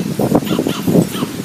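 A Fisher-Price Little People toy dog figure playing a guitar sounds a series of electronic woof barks, several close rhythmic bursts against steady wind noise outdoors.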